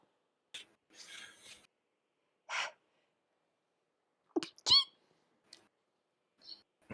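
A sharp, brief sneeze bursts out after a few soft breaths and faint sounds, in an otherwise quiet setting.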